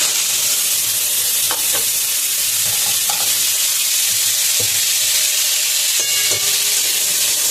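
Raw mango pieces hit a hot pan with mustard seeds for chutney and sizzle loudly and continuously, with a constant frying hiss and occasional clacks from stirring.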